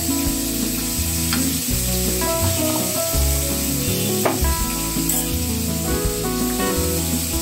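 Ground spices of cumin, turmeric, chilli and coriander sizzle steadily in hot oil over a medium gas flame, with a spoon scraping and stirring through them in repeated strokes, loud and close throughout.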